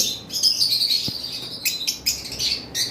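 Pet pineapple and yellow-sided conures and lovebirds chirp in a shop, a busy run of sharp, high tweets and squawks in quick bursts, close and lively.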